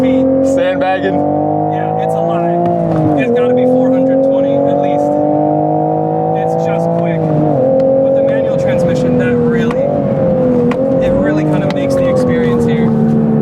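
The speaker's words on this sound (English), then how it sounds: "It's a really potent engine, this B58." A powerful 2023 Toyota GR Supra B58 engine with manual transmission roars loudly and steadily on a race track, rising in pitch as it accelerates, with brief dips at gear shifts; a voice talks faintly underneath.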